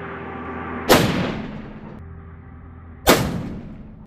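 Two loud, sharp long-range rifle shots fired through a tuner muzzle brake, spaced about two seconds apart, each a sudden blast with a decaying echo tail over steady outdoor background noise.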